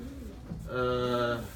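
Pigeons coo softly inside a loft, a low murmuring call heard over background noise and a voice talking.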